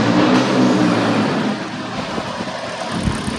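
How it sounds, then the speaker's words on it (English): A car engine turning over and running during an injector test, a loud close steady mechanical drone that settles slightly after the first second and continues evenly. "Now what I'm going to do is just start the car."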